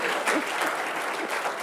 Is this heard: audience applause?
yes